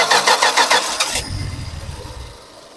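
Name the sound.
car engine being started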